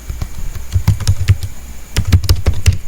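Close, clear keystrokes on a computer keyboard while Python code is being written, an irregular run of crisp taps with a short pause in the middle and no speech.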